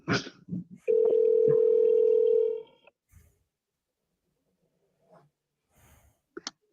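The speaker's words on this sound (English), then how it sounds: "Should I just let it keep ringing?" A steady electronic ringback tone sounds for about two seconds, followed by quiet breathing and faint small noises.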